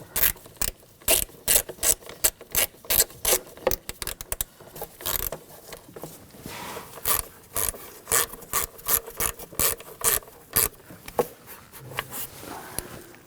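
Ratchet wrench snugging down the ignition coil bolts on a 2000–2006 BMW X5 with the 3.0L inline-six, a close, steady run of rapid clicking ratchet strokes repeating alone without talk.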